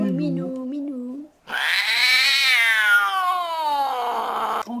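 A cat meows in the animated film The Bad Guys 2, first a short wavering mew, then after a brief pause a long, loud, drawn-out yowl that rises and slowly falls.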